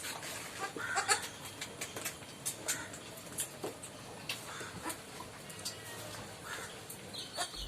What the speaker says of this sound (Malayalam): പാല് കൊടുത്ത് വളർത്താൻ പറ്റിയ ഈ രണ്ട് മലബാരി ആട്ടിൻകുട്ടികൾ ഏകദേശം ഒരാഴ്ച പ്രായം